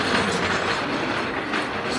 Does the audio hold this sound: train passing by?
yes